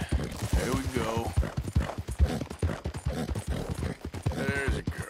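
Horse hooves clip-clop at a brisk, uneven pace in Red Dead Redemption 2, overlapped by someone speaking to the horse throughout.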